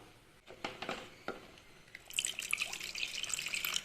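Water pouring into a simmering Kerala-style fish curry: dripping and splashing builds from soft trickles into a steady, bright, splashy pour, close up with no voices.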